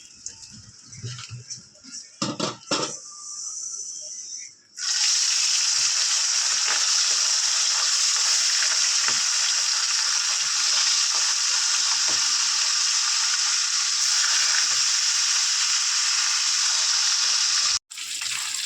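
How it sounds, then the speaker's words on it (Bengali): Hilsa fish fry in oil; light clatter and handling noises come first, then a loud, dense sizzle surges in and continues steadily to the end. "এইভাবে সবগুলো ভেজে নেবো।"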